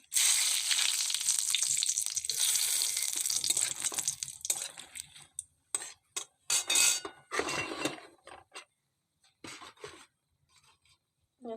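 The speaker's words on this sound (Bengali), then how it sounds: "দেখো প্রথমে ফোড়নগুলো দিয়ে দেবো।" Whole spices hit hot oil in a wok for tempering, giving a loud bright crackling sizzle that fades into scattered pops, clinks and short bursts of frying.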